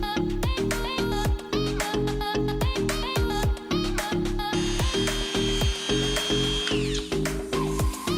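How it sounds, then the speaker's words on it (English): A Dremel rotary tool with a cutoff disc cuts fiberglass for a custom subwoofer enclosure, whining loud and close in a continuous tone that rises and falls rhythmically as the disc bites. "use my Dremel tool with my cutoff disc"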